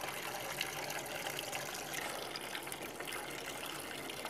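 Hot water runs from a tap or shower in a steady, continuous rush that stays even and fairly close throughout, with no voices over it.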